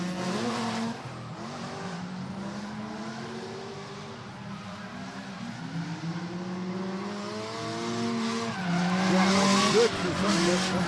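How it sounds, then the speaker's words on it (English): A Mazda RX-7 and a Mustang drifting at an outdoor drift event, engines revving hard with repeated rising and falling pitch as tires squeal and skid in long sweeps, heard from a distance with crowd ambience and a commentator talking over it. "Jack Vinge in the RX-7 going to bring us up to the initiation cones."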